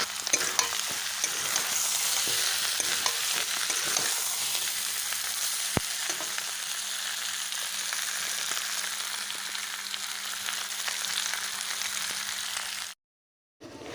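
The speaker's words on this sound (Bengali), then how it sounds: "তো মাংসটা আমি কষাতে থাকি" Chicken pieces being stir-fried in a pan while cooking a lightly spiced Bengali chicken curry, giving a steady, close sizzle and frying hiss with occasional scraping stirs throughout, cutting out abruptly near the end.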